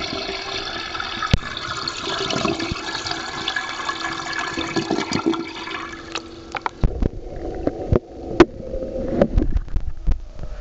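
A toilet flushes with a Kodak Mini camera sitting inside the bowl, a loud rushing swirl of water close by that fades into gurgling drips and refill trickles.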